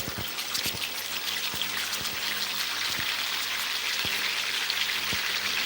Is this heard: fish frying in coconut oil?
yes